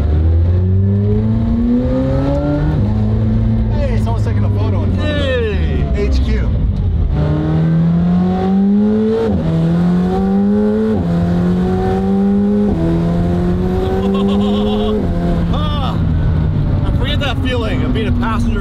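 A Lamborghini Aventador SVJ sports car accelerating hard, its engine note climbing repeatedly through several gears with sharp drops at each shift, loud and close, and brief talk in between.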